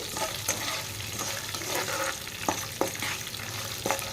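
Green and dried red chilies sizzle in hot oil in a pan while a utensil stirs them, with a soft steady frying hiss broken by sharp scraping clicks and pops.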